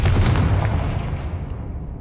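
A Confringo explosion spell cast in Hogwarts Legacy lands as a loud, deep boom with a rolling low rumble that slowly fades over a couple of seconds, with no other sound present.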